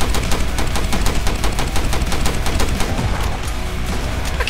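Rapid, sustained rifle gunfire in a video game rattles on without pause, loud and dense throughout, with no talk over it.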